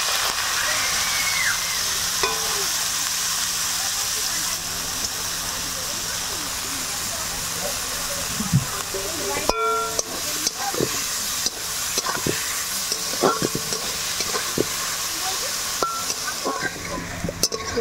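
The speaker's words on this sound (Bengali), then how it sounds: "এবার ভেজে নেব গাজর।" Carrots sizzle in hot oil in a pan, a constant close frying hiss with several sharp clacks of a spatula stirring partway through, and no voices.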